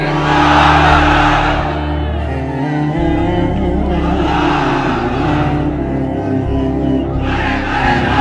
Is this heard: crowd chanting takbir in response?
yes